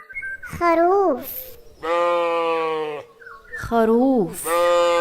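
A sheep bleats several times up close, long wavering calls in a loud, steady series with short gaps between them.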